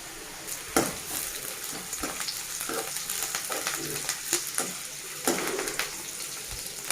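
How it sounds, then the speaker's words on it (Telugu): Onions and spices fry in a pan for a chana dal and bottle gourd curry, a steady sizzle with scattered sharp pops and occasional stirring scrapes, moderately loud and close, with no voices. "ఇవన్నీ ఫ్రై అవ్వాలండి"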